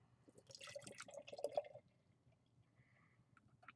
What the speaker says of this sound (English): All right, let's give it a pour.